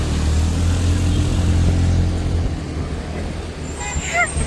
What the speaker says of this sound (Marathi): खूप फास्ट चालय त्या गाडी ना.